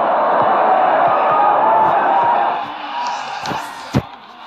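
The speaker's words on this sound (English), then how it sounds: "And the crowd are well behind their team now." A football stadium crowd roars steadily behind its team, a dense wall of cheering and chanting that dips near the end, where a few sharp claps or thuds cut through.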